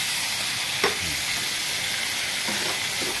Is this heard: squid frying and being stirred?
yes